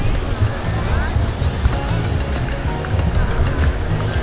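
Surf rolling onto Arambol Beach in Goa on a clear sunny day, a steady broad wash of waves with some wind rumble, continuous throughout and moderately loud.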